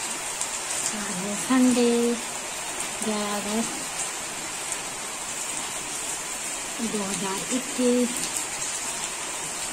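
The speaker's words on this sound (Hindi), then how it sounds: "ये देखो बारिश हो रही है" Steady rainfall hisses continuously near a mango tree in Uttarakhand, with someone speaking intermittently over the even wash of rain.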